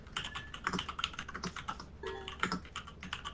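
Rapid, uneven typing on a computer keyboard, close and fairly loud, with clustered keystrokes and a few harder strikes, heard on its own without talk.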